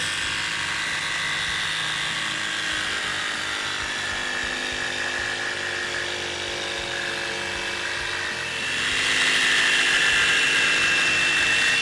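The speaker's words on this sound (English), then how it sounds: "let's cut this at a 45-degree angle. I'll let you hear it" A RIDGID 18V OCTANE cordless jigsaw (R8832B) cuts at a 45-degree bevel, giving a steady, close, high-pitched buzzing whine that grows louder and harsher near the end.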